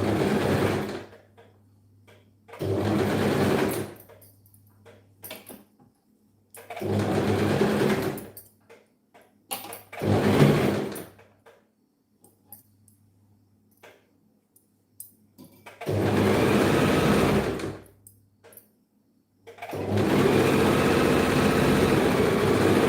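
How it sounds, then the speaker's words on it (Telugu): A sewing machine stitches along folded fabric in several bursts of steady mechanical whirring, each lasting a few seconds and separated by quiet pauses, close and fairly loud with no talking. "ఇలా అయితే ఫోల్డ్ చేసుకొని స్టిచ్ వేసుకోవాలి"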